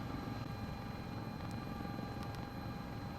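A CowanSim S-76 helicopter in Microsoft Flight Simulator drones steadily, its low rotor and turbine hum continuous and close, with a few faint high cockpit clicks and no talk.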